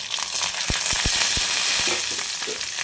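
Food sizzles steadily in hot peanut oil in a pan, a dense close hiss broken by a few sharp clicks as it is stirred.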